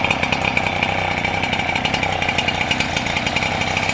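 A Stihl TS700 gas chop saw engine idling steadily, a loud continuous two-stroke putter with a fast even rhythm, close up and alone.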